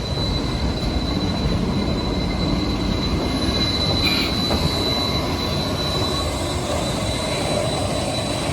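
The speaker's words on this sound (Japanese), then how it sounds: "進行方向が反対側なので SL に後押しされてバックで入線してきます" The SL Yamaguchi steam train, pushed from behind by its locomotive, backs slowly into the platform at Tsuwano station, with a steady rumble of rolling carriages and a thin, sustained wheel squeal running throughout at a moderate distance.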